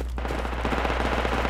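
Automatic gunfire from the Project Reality military shooter on the Nuijamaa map, a rapid burst of shots close by and loud, continuing without pause.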